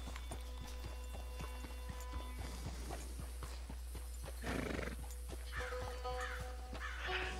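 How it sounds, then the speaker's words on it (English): A horse in the online Western game Red Dead Redemption 2 paws at the ground with regular, sharp hoof thuds, then snorts and gives a short neigh, mixed with game ambience and distant crow-like caws. "Look, my horse is pawing, it's like, I'm ready to go!"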